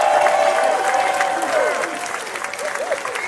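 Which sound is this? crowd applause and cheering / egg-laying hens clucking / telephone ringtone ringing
crowd applause and cheering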